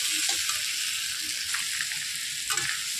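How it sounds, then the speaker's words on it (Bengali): Rohu fish head and spices stir-fried in a hot pan, with a steady broadband sizzle throughout, a couple of soft scraping stirs cutting through near the middle and end, close and fairly loud. "এবার ভালো করে মশলার সাথে সব ভালো করে একটু কষিয়ে নিই"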